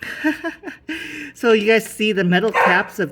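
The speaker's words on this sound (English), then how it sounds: "That's my dog." A pet dog barks and yips a few times indoors in short bursts at close range, mixed in among someone talking.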